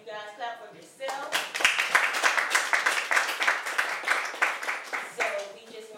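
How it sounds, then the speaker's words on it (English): A community youth sports and education gathering breaks into clapping, dense pulsing applause that swells and holds for several seconds, with a voice speaking just before it starts and again as it tapers off. "Clap for yourself"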